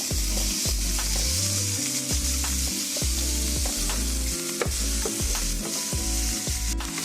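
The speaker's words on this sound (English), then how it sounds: "Now you want to let your ground beef continue to cook until it's brown all the way through" Ground beef browning with vegetables in a pot for one-pot beef and rice: a constant close sizzle and repeated knocks and scrapes of a spoon against the metal as the meat is stirred.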